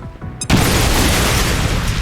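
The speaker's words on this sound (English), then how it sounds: "Throwing grenade." A grenade detonates in the video game XCOM: Chimera Squad, a sudden loud boom after a brief quiet lead-in, followed by a sustained dense roar of debris and rumble that holds steady to the end.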